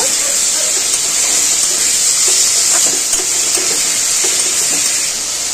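Prawns with chilli, salt, turmeric and spices sautéing in a pan, a loud continuous close sizzle and hiss with faint scraping under it.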